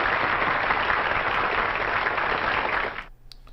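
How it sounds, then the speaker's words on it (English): A steady wash of crowd-style applause, dense and even, holds for about three seconds and then cuts off abruptly into near silence. "I guess I should give myself some applause for that one"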